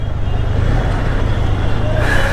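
Busy road traffic in Jaipur, Rajasthan, a steady loud rumble of cars, trucks and buses passing close by, with continuous engine drone throughout and no pauses.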